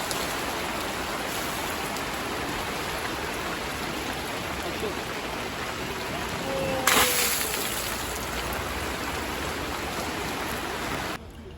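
Steady, dense rain falls in Antalya throughout, a continuous hiss with a brief brighter splash partway through before it cuts off abruptly.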